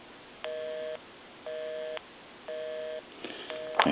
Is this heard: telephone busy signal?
yes